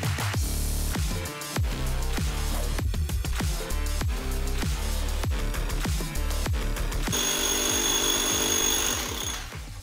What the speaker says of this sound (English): Now I'm gonna go down to the basement and drill the hole that needs to come out of here.